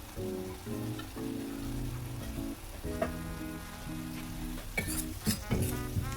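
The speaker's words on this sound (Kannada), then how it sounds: "ಇವಾಗ ಇದೆಲ್ಲ ಫ್ರೈ ಆಗಿದೆ, ಈರುಳ್ಳಿ ಟೊಮೆಟೊ ಎಲ್ಲನೂ." Onion and tomato with turmeric and chilli powder fry in a pan, a steady soft sizzle with occasional stirring clatters, partly overlaid by tonal background music.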